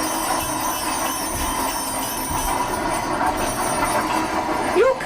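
A train sound effect in a radio play carries a steady rumbling, rattling clatter of carriages with a faint hiss, running loud and unbroken throughout, with a brief squeal near the end.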